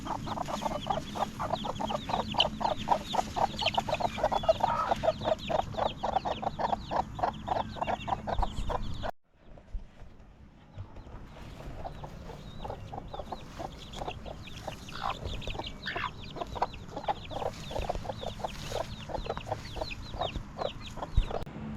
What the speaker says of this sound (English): Another little surprise of life that we had here on the farm were these little chicks